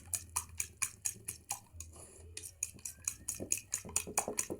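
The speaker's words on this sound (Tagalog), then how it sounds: "Haluin ulit." A utensil stirs an eggplant omelette mixture in a bowl, giving a steady run of quick clinking and scraping strokes, close and fairly quiet, with a brief pause midway before the rhythm resumes.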